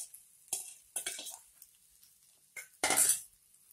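Metal spoon scraping and clinking against a pan while flattened rice poha with turmeric is stirred, a few sharp clanks and scrapes at close range separated by quiet gaps.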